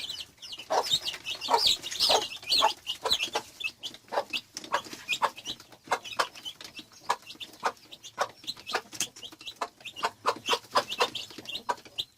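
Chickens and 13-14 day old chicks cluck and peep steadily, a busy run of short, repeated calls close by with no talking.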